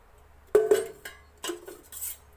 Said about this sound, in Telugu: ప్యాన్ పెట్టుకోవాలి ఫ్రెండ్స్.